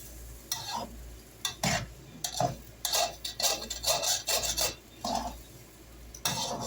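Rice stick pancit noodles being stirred in a pan, a series of loud, close scraping and clattering strokes in an uneven rhythm with short pauses between them.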